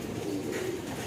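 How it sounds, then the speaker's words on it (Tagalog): A pigeon gives a single low, soft coo that lasts about a second. It is heard close by and alone. "Ayun po yung ibon namin."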